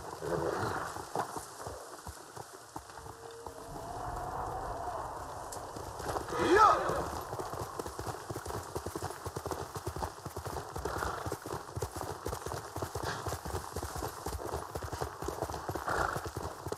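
Horse hooves clip-clop steadily and a whinny rings out midway, in the video game Ghost of Tsushima, with someone talking over the sounds throughout.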